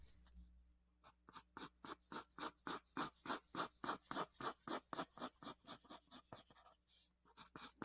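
Graphite pencil shading on paper, pressed with medium hardness for a mid-tone value: a steady run of quick back-and-forth scratchy strokes in even rhythm, close and fairly faint, with no voices.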